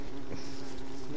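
Bees buzzing after being spawned by a bee book in a video game, a close, continuous droning hum over a short stretch with no talking.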